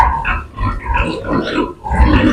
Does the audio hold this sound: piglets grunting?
yes